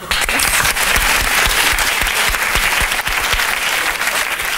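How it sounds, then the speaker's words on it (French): Studio audience on a French television talk show breaks into loud, dense applause, sustained sharp clapping with faint crowd murmur, continuous and close throughout. "Ça mérite des applaudissements."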